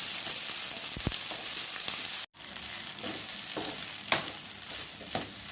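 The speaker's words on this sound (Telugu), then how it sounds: "ఇప్పుడు ఈ రైస్ మొత్తం వేడయ్యి చిటిపట్లాడాలండి." Chicken fried rice sizzles and crackles in a hot pan, a dense continuous frying hiss broken by a brief cut and several stirring scrapes, close and loud without talk.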